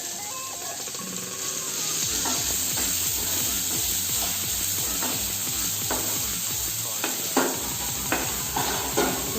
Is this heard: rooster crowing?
no